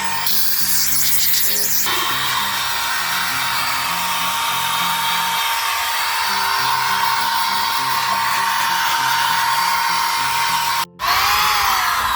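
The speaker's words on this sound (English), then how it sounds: "air compressor with some hoses and my new nozzle I just got. Now we're going to use this to blow the loose stuff away." An air compressor nozzle blasts loose rust off the fuel tank frame of a 1994 Ford F-150. The loud, steady, close rushing hiss runs almost unbroken, with one brief cut-off near the end before the blast resumes.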